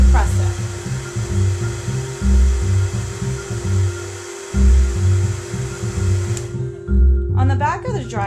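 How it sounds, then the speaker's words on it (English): An HAI SST Tourmaline hair dryer runs close by with a steady, loud motor whine and airflow, pulsing slightly as settings change, before cutting off near the end as brief chatter follows. "The dryer has a cool shot button located right here, and to use it you simply depress it."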